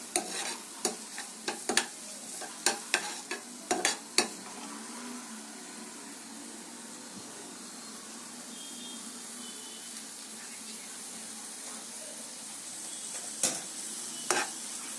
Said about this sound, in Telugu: లైట్గా 2 minutes ఫ్రై చేయాలంతే